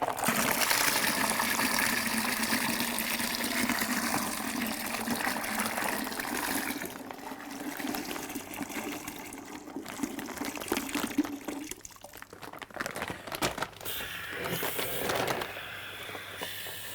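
Water pouring into a wine kit fermenter, a continuous close splashing rush that shifts in tone partway through as the vessel fills, steady and without talk.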